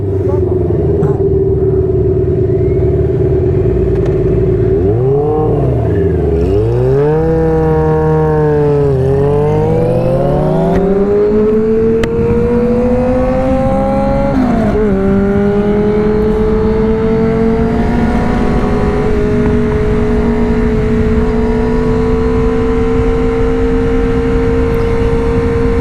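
Several motorcycles rev together downtown, loud and close, their engine notes climbing and sliding in pitch and blending into a sustained harmonizing whine before settling into a steady high drone.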